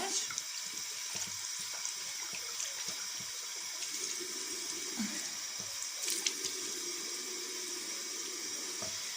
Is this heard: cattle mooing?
no